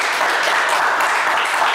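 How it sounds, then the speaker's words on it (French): A French TV game show studio audience bursts into loud, dense applause, a brief continuous roar of clapping close to the microphone. "On vous applaudit également très fort."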